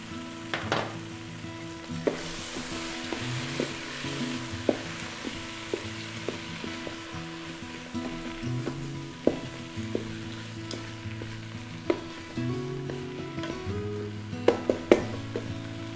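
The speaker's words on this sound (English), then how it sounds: "Then we're gonna add it to the remaining onions and brown that up a little bit." Seasoned beef and onions browning in a pan, a steady close sizzle with intermittent scrapes and knocks as the mixture is stirred, and no voices.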